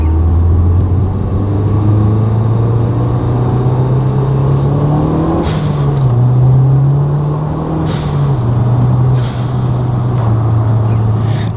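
A MazdaSpeed 3 fitted with an aftermarket passenger motor mount drives along, its engine a loud, steady drone that rises and dips slightly as revs shift, with continuous road rumble and no talking.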